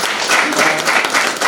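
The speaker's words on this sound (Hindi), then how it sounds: "तो मैं चाहूँगा कि ताली से उनका स्वागत करें" An audience claps to welcome guests from Vrindavan Public School at an art competition prize distribution by The New Club, Nainital. The clapping is a steady, dense wash that stays fairly loud for the whole short stretch.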